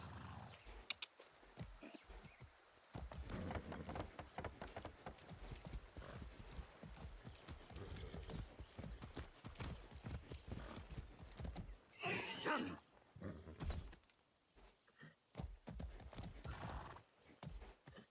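Horse hooves clip-clop steadily in Far Cry 6, with neighs and whinnies mixed in, while someone talks casually over much of the stretch.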